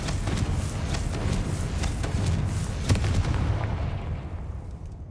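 Confringo fire-blast spell in Hogwarts Legacy exploding in a rapid series of sharp, gunfire-like cracks over a rumbling low boom, with a sharper hit near the middle before the blasts die away.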